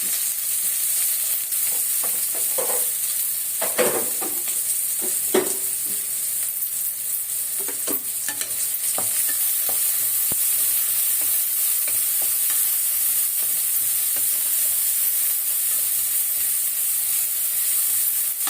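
Chopped country onions, about ten, sauté in a hot pan with a steady bright sizzle throughout, broken by scattered scraping stirs of a spoon near the start and middle, close-up with no talking.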